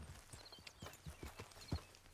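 Horse hooves clip-clop at a steady riding pace in the Red Dead Redemption 2 video game, a string of close, evenly spaced thuds with no talk over them.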